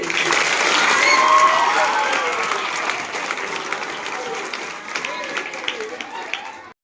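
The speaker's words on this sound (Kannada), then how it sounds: "ಚಪ್ಪಾಳೆ" Applause from a school crowd at a school parliament election result, a dense wash of clapping that swells early, then holds steady and fades at the end.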